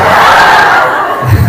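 An audience in a hall at a training session on written-test questions lets out a loud burst of cheering and shouting, a dense crowd roar that swells and then eases slightly.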